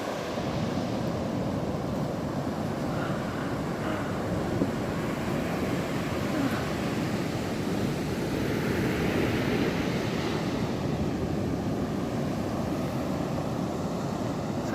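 Sea waves wash continuously onto a beach where people are fishing, a steady rushing surf with wind buffeting the microphone and no voices.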